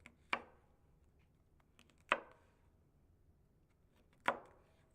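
A knife chops jalapeno for guacamole on a cutting board, three sharp, isolated strikes spaced about two seconds apart in a quiet room.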